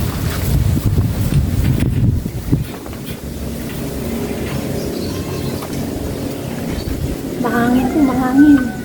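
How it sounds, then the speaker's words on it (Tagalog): Strong wind gusting outdoors beside a charcoal grill being lit for cooking, a steady broadband roar with buffeting on the microphone, while a voice talks over it. "Mahangin po, mahangin."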